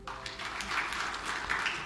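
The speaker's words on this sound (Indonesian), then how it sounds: "Tepuk tangan buat Tuhan." Congregation clapping at a church service at GBI Imanuel Aviari Plaza Batam, a steady moderate wash of applause lasting the full two seconds with no speech over it.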